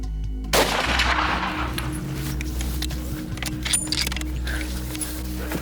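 A single loud rifle shot fired at a hartebeest from about 125 yards in open brush on a Tanzanian plains hunt, a sharp crack at the start followed by a long rumbling echo and low wind noise.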